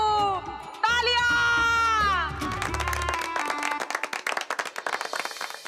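Clapping from a village crowd at a Hindi sports festival where a wrestling bout is announced, rising after music into a dense patter of many hands, fairly close and steady.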